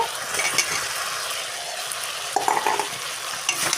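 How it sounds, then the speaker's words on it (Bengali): Fried potatoes stirred into a cooked-down spice paste in a pan, a steady close sizzle with scraping and stirring clatter from a spatula, a few sharper metallic scrapes near the end. "এখনও ভালো করে একটু কষিয়ে নেব মশলার সঙ্গে আলুটা"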